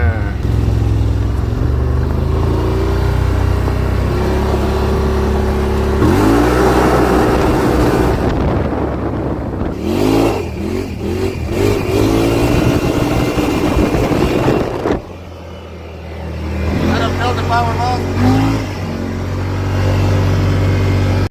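A Wolverine X2 1000 side-by-side accelerates in high gear, its engine roaring loud and close with wind buffeting, while someone talks over the noise.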